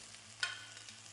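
Previously seared lamb shanks go into a hot pot with a sudden loud sizzle that settles into a steady, close crackling hiss, no voices.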